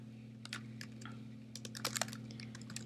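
Rapid, irregular keystrokes on a computer keyboard as overlay text is typed onto an image, a close, fairly soft clatter of clicks in short bursts with no talking.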